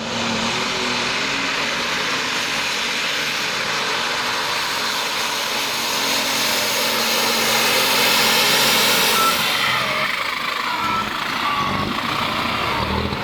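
A pulling tractor's heavy engine roars steadily at full throttle at a truck and tractor pull, loud and rumbling, swelling toward the end before easing off.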